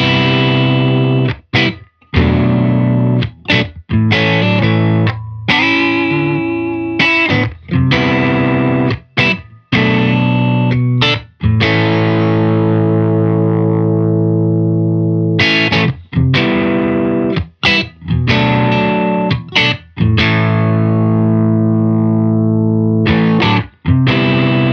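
An electric guitar runs through the Sweeten setting of a Hologram Chroma Console pedal, giving polished, compressed chords and sustained notes with slight shimmer, played continuously with brief pauses between phrases and no speech.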